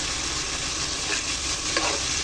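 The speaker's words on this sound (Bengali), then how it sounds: "আমি মশলাটা ভালো করে কষিয়ে নেব" Spice paste with dried and green chillies for a hilsa curry with taro fries in a pan, giving a dense, even hiss of sizzling with a couple of faint stirring scrapes.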